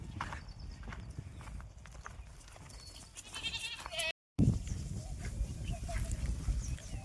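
Hooves clip-clopping with occasional bleats from three goats being led out to graze on an Indian farm field, steady and fairly close, with a brief dropout partway through.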